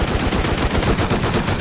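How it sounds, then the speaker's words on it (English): Explosive ammo gunfire in a video game raid, tearing through beds in a rapid, dense burst of shots that hammer loudly and without pause for the whole moment. "I'm gonna break beds with explosive ammo"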